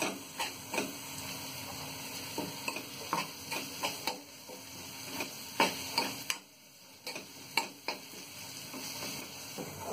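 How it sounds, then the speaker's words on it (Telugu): Ginger garlic paste frying with onions in a pan, with repeated close spatula scrapes and knocks in an uneven rhythm over a faint sizzle. "అల్లం వెల్లుల్లి పచ్చివాసన పోయే వరకు వేయించుకోవాలి."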